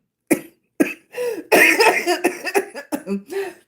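A woman on a live stream coughs repeatedly at close range, a run of sharp hacking bursts that crowd together into a rough, throaty fit.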